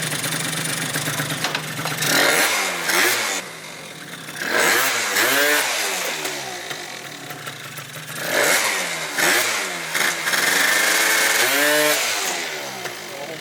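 A Yamaha BWS scooter fitted with a 70cc Polini kit engine revs hard in repeated rising bursts, dropping back to a buzzing idle between them, loud and close with no talking.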